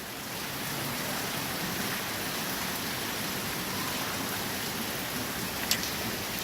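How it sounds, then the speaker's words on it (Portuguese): Light but steady rain falls in Guajará-Mirim, Rondônia, a continuous even hiss of drops on surfaces with one brief tick near the end and no talking. "Eu mal comecei a filmar, já diminuiu a intensidade da chuva."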